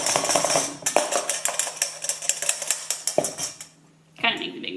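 Flour shaken through a metal sifter into a mixing bowl for homemade apple pie, giving a quick, rhythmic metallic rattle and clatter that pauses briefly near the end before starting again, close by.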